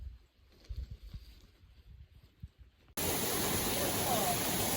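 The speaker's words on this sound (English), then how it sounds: "It's a waterfall." A waterfall on a mountain trail gives a loud, steady, full rush of falling water that starts abruptly partway through, after a stretch of quiet movement and handling noise.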